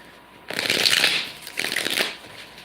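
A deck of tarot cards is riffled and shuffled close to the microphone in two quick, crisp bursts of papery flutter separated by a short pause.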